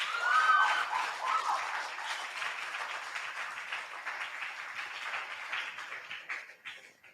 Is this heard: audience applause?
yes